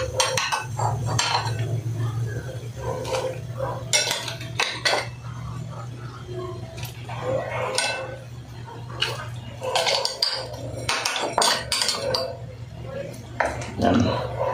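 Fish dropped into a boiling cooking pot of kaBadi broth, with utensils clinking and scraping against metal in scattered bursts while a person talks over it.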